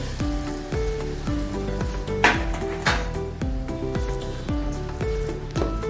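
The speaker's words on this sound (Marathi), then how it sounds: "फोडणी येते पटकन त्याच्यावर फोडणी" Hot oil tempering poured over raw mango dal gives a loud, close sizzle with repeated clinking knocks of a utensil against the pan, and no voices.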